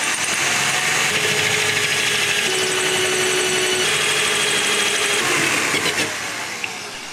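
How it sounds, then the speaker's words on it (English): A power drill bores a cord exit hole through a wooden cabinet, a loud continuous whirring and grinding that holds steady for about six seconds before tapering off. "So we're going to go ahead and drill that out from this side."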